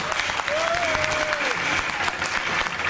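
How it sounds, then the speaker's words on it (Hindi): Sustained applause from an audience at a Holi celebration held at a Hindu temple fills the room, dense and steady throughout with faint voices mixed in. "जोरदार तालियां"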